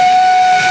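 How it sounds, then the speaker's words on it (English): A classic steam locomotive pulling vintage carriages on a tourist railway near Ushuaia sounds its whistle, one loud, steady, piercing tone held right through the brief moment. "Climbing aboard the vintage carriages pulled by a classic steam locomotive"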